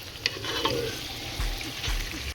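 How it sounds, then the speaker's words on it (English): Ghana jollof rice base fries and sizzles in a pot while it is stirred gently, with soft scrapes and small bursts over a steady sizzle. "So give it a gentle stir."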